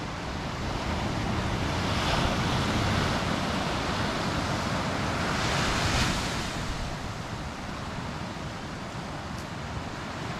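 Ocean waves washing onto the shore at sunset in Khao Lak, Thailand, a steady broad rush of surf with two swelling breakers and some wind noise, close and continuous with no talk.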